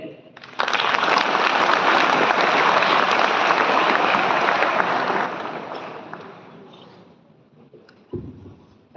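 Applause from an audience at a school event in Rewari, a dense, loud burst that holds steady for several seconds, then thins and fades, with a brief voice near the end.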